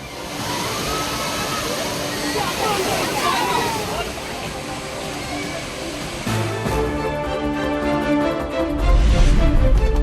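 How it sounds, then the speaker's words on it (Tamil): Roaring Manimuthar waterfall pours steadily into a pool crowded with holiday bathers, a broad continuous rush of falling water with splashing and a murmur of many voices throughout, swelling louder near the end. "ஆர்ப்பரித்து கொட்டும் அருவியில் உற்சாகமாக குளித்து மகிழ்ச்சி."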